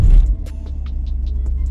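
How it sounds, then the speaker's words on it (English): A Toyota A90 Supra engine in launch control holds a deep, steady low rumble near the mic, with faint periodic clicks or pulses repeating above it. "It's a weird sounding launch control, it like jerks the whole car."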